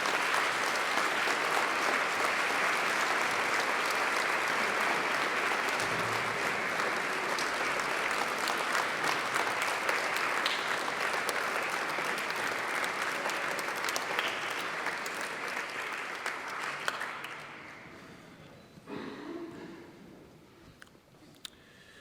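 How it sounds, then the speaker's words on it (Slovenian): A church congregation at a new priest's first Mass breaks into long, full applause that rolls on evenly for over fifteen seconds, then gradually fades to a few last claps and quiet. "Mislim, da še mu lahko zaploskamo, ker je res bila dobra."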